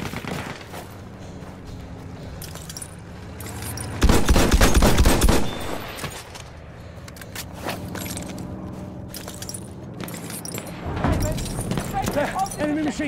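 Enemy machine gun fire in a team-based war video game: a dense, loud close-range burst of automatic shots stands out mid-way, with scattered shots and battle noise around it and radio-style voice callouts running under much of it.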